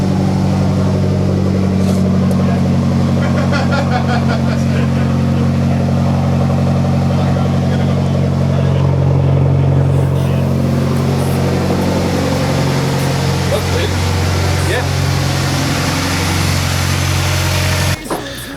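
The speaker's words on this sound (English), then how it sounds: "So yeah, the car runs freaking good now." A Mazdaspeed 6 engine running steadily after a misfire fix, a loud, even idle hum with a strong low drone close by, plus faint voices in the background.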